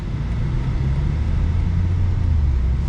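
A 2024 BMW M2 CS rolls at gentle speed through a residential neighborhood, a steady low engine and road rumble heard from inside, loud and continuous with no talking.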